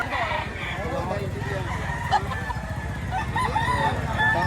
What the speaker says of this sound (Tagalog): Ito yung mga dala niya, kagagandang manok.